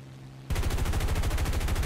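An A-36 aircraft's guns fire in a video game: a sudden loud, rapid burst of evenly spaced shots starts after a half-second of low engine drone and keeps going steadily to the end.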